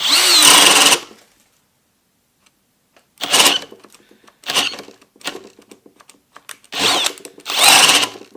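A Kobalt brushless hammer drill runs on speed 2 in short loud bursts, about five separate drilling runs of roughly a second each with silent gaps between them and no talk.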